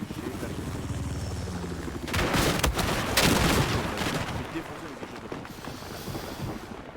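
A Z-11W attack helicopter's cannon fires in Battlefield 4, a burst of heavy, sharp reports rising mid-clip over steady game ambience and rotor-like rumble, with someone talking over parts of it.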